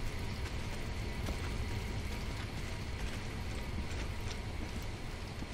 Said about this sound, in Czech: Samozřejmě mimo jiné začalo pršet